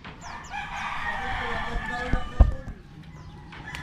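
A rooster crows loudly and close by, a drawn-out call with clucking chickens around it in a farmyard, ending in a sharp knock before quieter background noise.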